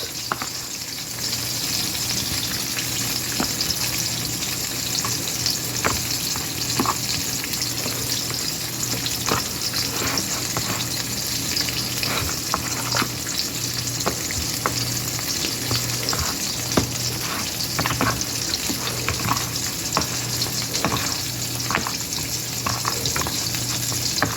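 Flour-coated chicken wings deep-frying in hot oil give a loud, dense, continuous sizzle and crackle with scattered pops, steady and close for the whole stretch, with no voices.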